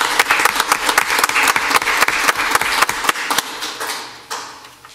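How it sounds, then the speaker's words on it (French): Audience applause at an ordinary municipal council meeting, a dense burst of many hands clapping that holds steady for several seconds, then thins and fades toward the end. "On peut presque l'applaudir."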